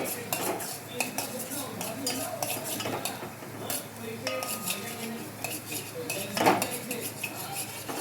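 Maggi noodles are stirred and sautéed in a pan, a metal spoon clinking and scraping repeatedly against the pan in close, busy bursts with a light sizzle underneath.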